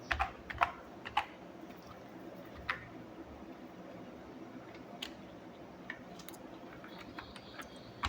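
Faint, quiet tapping of HTML code on a computer keyboard, a few clustered key clicks early on, then sparse scattered keystrokes over a low background hum.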